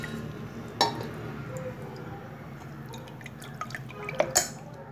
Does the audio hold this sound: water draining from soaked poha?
yes